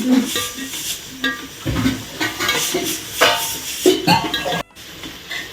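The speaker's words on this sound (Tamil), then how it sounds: "இந்த வெங்காயம் வந்து நல்லா வதங்கணும் நல்லா வதங்கி பிரவுன் கலர்ல வரும்" Onions sautéing in a pan for mutton biryani: steady sizzle and hiss with repeated stirring scrapes and occasional clinks of a ladle against the pan, close and fairly loud, with no talking.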